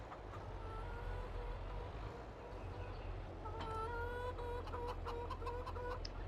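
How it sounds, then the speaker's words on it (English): Chickens clucking in Farming Simulator 22, a run of short tonal clucks and chirps over a constant low engine drone, rising into a busier cluster of calls in the second half. "We'll feed all the chickens that I'm running over as well."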